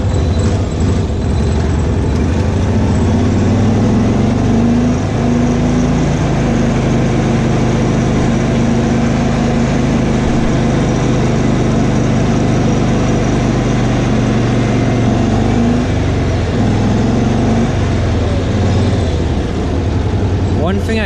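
A Cushman Truckster engine runs at a steady, loud, low idle, a continuous rumbling drone with a slight wavering hum throughout.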